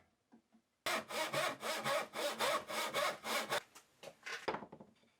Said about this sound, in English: make the second frame piece from the rest of this length of timber